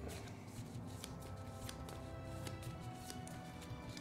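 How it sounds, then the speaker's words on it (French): A deck of day cards for the Mage Knight board game is shuffled by hand in a steady run of quick riffling and sliding card sounds, close up, with a faint background noise underneath and no talking. "Donc je vais commencer par mélanger les cartes jour"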